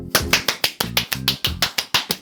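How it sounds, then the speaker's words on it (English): Sharp hand claps in a quick, uneven series of about ten close, loud smacks, each with a short ringing tail, with no talking between them. "claps, please."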